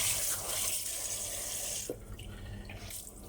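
A kitchen tap running hard under strong water pressure during fish cleaning: a loud rushing stream that drops to a lighter splash, close up.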